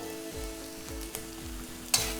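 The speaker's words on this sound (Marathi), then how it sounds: "तर फोडणीमध्ये गवार चांगली परतली" Cluster beans sizzle in a hot oil tempering in a pan, a close, continuous frying hiss broken by a few sharp stirring scrapes, with no talking.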